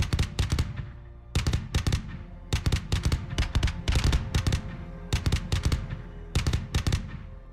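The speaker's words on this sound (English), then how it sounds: "a Ukrainian BMP-2 advancing directly toward Russian trenches, opening fire and cutting down everything in its path" Bursts of rapid cannon fire from a Ukrainian BMP-2 infantry fighting vehicle attacking Russian trenches, loud sharp volleys in clusters with short pauses between them.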